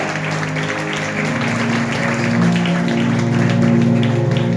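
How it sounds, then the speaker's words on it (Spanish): Church congregation applauding during a Christmas worship service, a lively clapping wash layered over sustained music with steady tones underneath. "Dale un aplauso maravilloso al Rey de Gloria."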